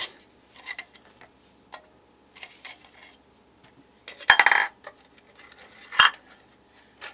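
Folding and packing a camping pot, bowl and alcohol stove kit produces sparse metallic clinks, taps and rattles, close up, with a louder cluster of scraping clatter midway and a sharp clank near the end, separated by quiet gaps.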